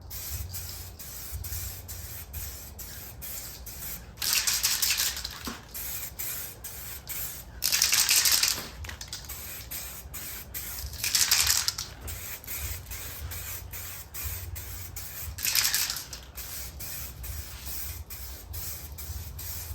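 An aerosol can sprays paint in a garage, hissing in four separate bursts of a second or so each, close by, over a steady background hum with faint ticking.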